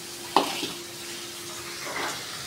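Chopped onions drop into a hot frying pan for an egg omelette curry, setting off a sharp clatter and burst of sizzling, then a steady frying hiss with a brief stir near the end.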